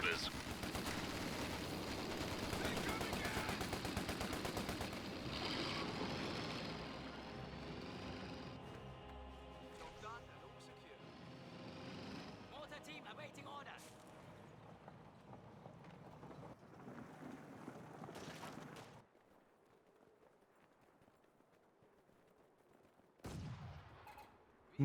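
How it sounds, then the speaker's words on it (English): A mortar barrage and other gunfire rumble through a Company of Heroes 2 battle as a dense, continuous wash of thuds and crackles. A commentator talks over it, then the din thins out and fades near the end. "Mortar now firing away."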